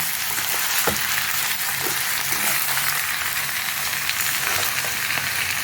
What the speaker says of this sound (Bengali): আমি এই চালটা এর মধ্যে দিয়ে দিলাম। দিয়ে একটু নাড়াচাড়া করে দিই